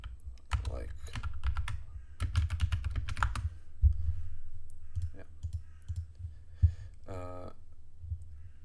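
Fast typing on a computer keyboard sounds close and clear, with bursts of sharp key clicks, short pauses between runs, and a brief tonal beep near the end.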